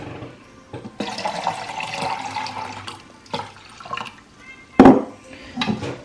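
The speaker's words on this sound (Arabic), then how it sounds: "غادي نضيف عليه كاس كبير ديال الماء" Water poured from a large glass into a coffee machine reservoir along with vinegar for descaling; a splashing pour runs through most of the clip with a clinking knock near the end.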